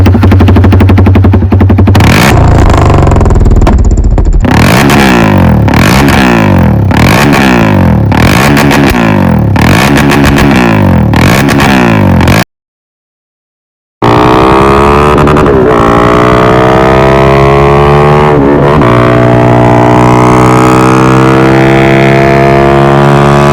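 A Jawa 42 Bobber motorcycle's loud aftermarket exhaust, with its dB killer removed, revs repeatedly in rhythmic bursts, then roars past close by, its drone fading and shifting pitch after a brief gap.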